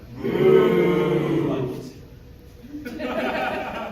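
A crowd boos a wrestler with low, drawn-out jeers that swell loudly, fade after about two seconds, then rise again in a second, thinner wave.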